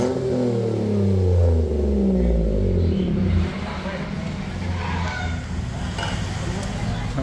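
Daihatsu Ayla car fitted with an HKS racing exhaust revving loudly close by, a deep rumbling rise and fall that settles into a steady throaty drone.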